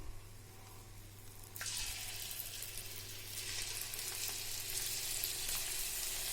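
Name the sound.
ragi pakoda batter frying in hot oil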